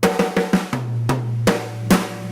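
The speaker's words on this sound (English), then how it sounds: "So basically snare to rack and then back to the snare again." A slow drum fill played alone on a kit, moving from snare to rack tom and back to snare: a few spaced, sharp hits, with the lower tom strokes ringing between the snare cracks.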